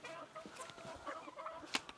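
Farmyard chickens at a medieval château cluck in short scattered calls, fairly close and moderately loud, with a few sharper squawks and no talk.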